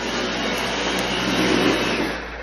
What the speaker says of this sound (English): you wouldn't believe how amazing this Dyson vacuum cleaner